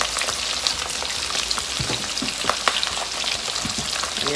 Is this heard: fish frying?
yes